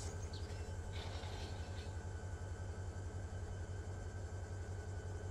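A train in the Run 8 train simulator video game rumbles steadily with a low engine drone and faint metallic squeals, constant and moderately quiet throughout, with no talking.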